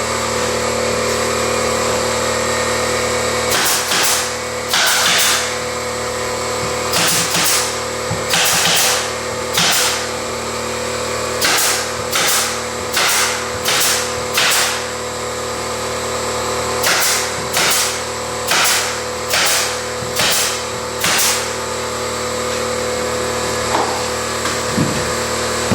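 An air compressor drones steadily and loudly throughout the installation of a pre-hung door. Repeated sharp bursts cut over the drone in clusters, close by, with no speech.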